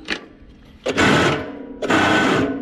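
An old tractor engine cranks without catching: a short burst of starter churning, then two longer rough grinding bursts of about a second each, separated by brief pauses and heard up close.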